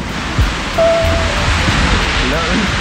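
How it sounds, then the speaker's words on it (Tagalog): Strong wind from Typhoon Odette (Rai) on Siargao island makes a loud, unbroken rushing roar throughout, with a brief spoken greeting heard over it. "Medyo lumalakas na yung hangin."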